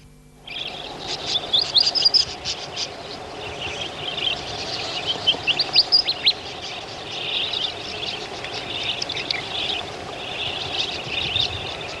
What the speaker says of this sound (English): the budgerigar in the wild occurs in large, close-knit flocks across the arid interior of Australia